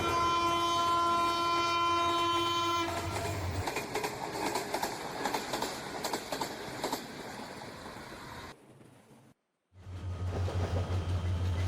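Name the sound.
Tista Express intercity train running, horn sounding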